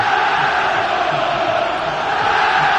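Santos football fans chanting in a stadium at the 2007 Paulista final, a dense, steady roar of crowd voices filling the clip without pause.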